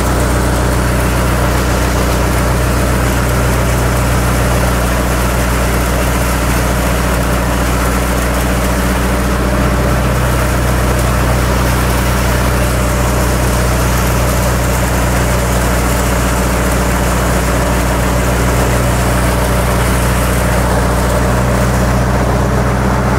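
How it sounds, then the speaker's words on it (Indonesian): A Maktani PM500 mill grinding corn kernels into flour gives a loud, steady mechanical drone with a deep rumbling base that holds without a break throughout, with no talking. "Ya ini pengujian mesin Matani PM500 dengan bahan jagung ya sobat-sobat ya."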